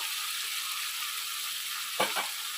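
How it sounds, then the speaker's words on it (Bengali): Spices are stirred in a frying pan for capsicum paneer, giving a steady hiss of sizzling oil with a couple of quick scraping strokes near the end, close and alone. "এখন এরপর মশলাটা দিয়ে আমি একটু নাড়বো আঁচটা মিডিয়াম করে নেব"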